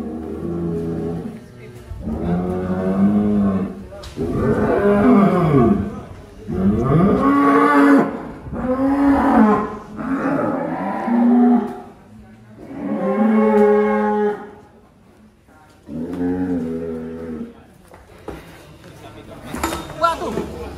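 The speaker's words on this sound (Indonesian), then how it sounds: "ini sapi keempat yang mau keluar kandang" Large Limousin cattle moo repeatedly at a farm, loud, drawn-out harmonic lows one after another, with people talking in between.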